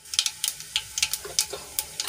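Cumin seeds land in hot oil in a kadai already holding popped mustard seeds, giving a string of sharp, close crackles and pops scattered irregularly over a quiet sizzle.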